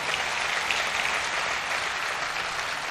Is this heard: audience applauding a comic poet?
yes